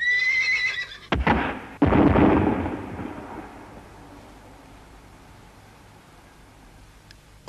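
A horse gives a high, shaky whinny, then two heavy thuds sound close. The neigh fades into a long, quiet tail, in an animated Mongolian folk tale about a white horse.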